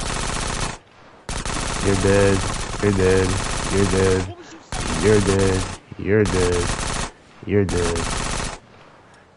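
Gunfire in GTA San Andreas comes in loud, close bursts of rapid automatic shots separated by short silent gaps, with a brief spoken word in between.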